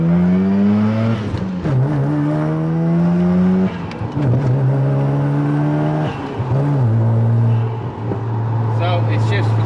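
A Mazda RX-7 FD fitted with a G Racing short shifter drives loudly, its rotary engine rising through gears with quick shifts and pitch drops, close and strong throughout.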